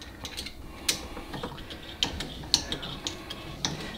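A ratchet clicks in short bursts while tightening a plastic pipe fitting on a dishwasher, with sharp close ticks and pauses between strokes, no talk.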